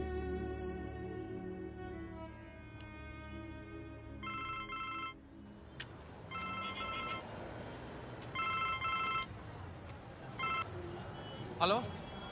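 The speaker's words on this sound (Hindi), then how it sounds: "आरा थाना फोन लगाइए तो हीरामन जी।" A telephone call to the Arrah police station rings, with repeated evenly spaced ring tones over a low background hum and occasional clicks.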